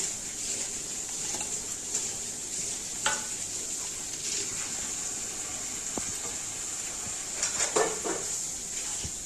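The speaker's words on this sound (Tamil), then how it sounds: "இப்போ இது எல்லாத்தையும் நம்ம ஒரு பரட்டி பரட்டிக்கலாம் நல்லா கிளறு அடியில் விட்டு கிளறிட்டு" Chicken fried rice with chicken and egg is stirred in a hot pan, giving a soft, steady sizzle broken by scraping and clinking of a spatula against the metal.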